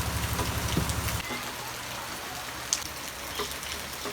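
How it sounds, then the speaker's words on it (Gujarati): Rain falls steadily in a village, a soft, even patter with a low rumble that drops away partway through, leaving a lighter hiss with a few sharper drip taps. "વરસાદ શરૂ થઈ ગયો"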